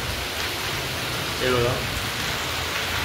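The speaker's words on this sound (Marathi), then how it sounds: "पाऊस पडायला आहे, तर पावसाचा आवाज येत असेल" Heavy rain pours down outside during a sudden downpour in Goa's hot season: a steady, dense hiss fills the whole clip, with someone briefly speaking over it.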